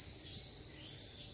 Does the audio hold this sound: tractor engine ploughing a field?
no